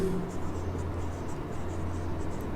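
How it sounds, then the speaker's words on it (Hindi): Marker or chalk strokes on a classroom board during a biology lesson, a steady scratchy rustle of writing running the whole time beneath a low constant hum, fairly close, with no talking. "थोड़ा साइड में लिखता हूं, वेट"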